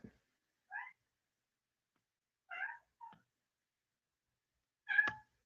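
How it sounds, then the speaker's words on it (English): A cat meows indoors, three or four separate short calls spaced a second or two apart, fairly close and clear against a quiet room, with a louder, more drawn-out final meow. "Here's the cat."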